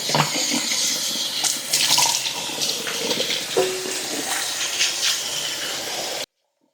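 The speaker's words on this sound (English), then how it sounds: "I want to rinse off this turkey with cold water." Cold tap water runs steadily into a kitchen sink as a raw turkey is rinsed, the gushing stream splashing and shifting against the bird, then cutting off abruptly at the end.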